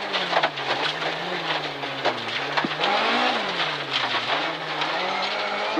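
A rally car races along a stage of the 2025 Shannons Rally of the Heartland, its engine droning and rising and falling with gear changes under steady road and gravel roar, heard close and continuous.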